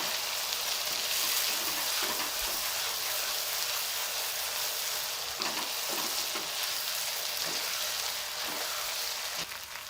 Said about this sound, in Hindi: मज़ीद 1-2 मिनट के लिए और फ्राई करेंगे इसको।